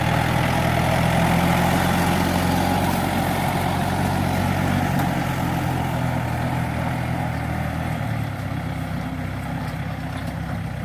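A farm tractor engine idling close by, a steady loud low drone with constant rumble running unbroken through the whole stretch and no talk over it.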